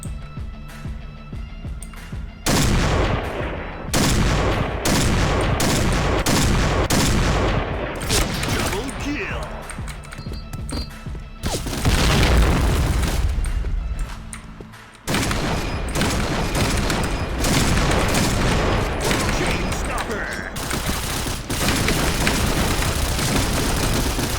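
Dense video-game gunfire with booming explosions, sustained bursts and heavy blasts filling most of the stretch, loud and close, with voices talking over it at times.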